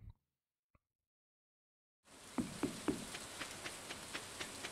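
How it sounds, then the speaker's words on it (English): Rain falls in the video game Stardew Valley, starting abruptly after a near-silent moment and then continuing as a steady patter with a few sharper drop ticks. "It's raining."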